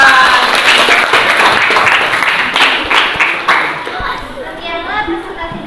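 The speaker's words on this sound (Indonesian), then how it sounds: "tepuk tangan untuk kelompok 4" Children in a classroom clap for a presenting group, a burst of close, dense hand-clapping that thins out toward the end, mixed with kids' voices and chatter.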